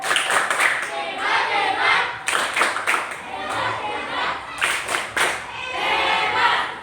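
A classroom of pupils claps together in a few quick rhythmic bursts to praise a classmate, with short pauses between rounds and some voices mixed in.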